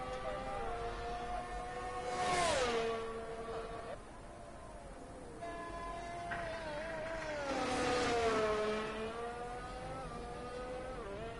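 Race car lapping a track in a racing video game set in Bahrain, its engine note rising and falling through gear changes and corners, steady and fairly close, with two louder surges as it accelerates.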